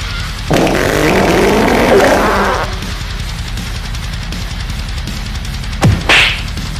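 A cartoon fart sound effect: a long, loud, wavering blast lasting about two seconds near the start, then quiet, and a short second burst with a rising squeal near the end, with no talk over it.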